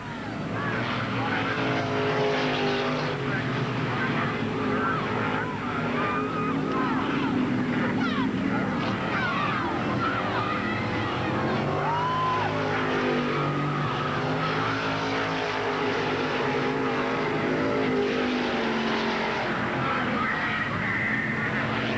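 Late model race cars circle an oval at Ada Raceway, a dense, continuous roar of engines with squealing tires filling the whole stretch at steady loudness.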